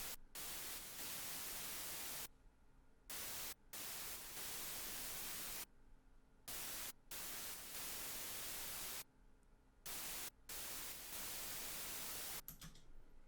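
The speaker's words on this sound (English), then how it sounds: "So this is what the white noise sounds like." Steady broadband hiss of synthesized white noise from the Serum synth, loud and even, cut by several abrupt gaps of silence where it stops and restarts.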